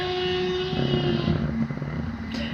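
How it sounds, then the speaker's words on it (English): A bin lorry drives past outside, a continuous muffled engine rumble with rising and falling mechanical noise heard through a room, steady and fairly loud for a few seconds. "Sorry, it's a bin lorry."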